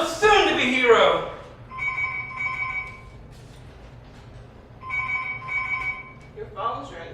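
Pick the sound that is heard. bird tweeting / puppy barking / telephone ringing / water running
telephone ringing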